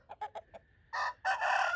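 Thai crossbreed rooster with Burmese, Brazilian and ACL bloodlines, a few short clucks and then a loud, close two-part crow.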